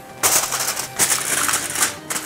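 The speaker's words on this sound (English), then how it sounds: "We'll cover this with foil." Aluminum foil crinkling and rustling as it is pressed over a dish of meat and potatoes, in a few loud, close bursts of crackling.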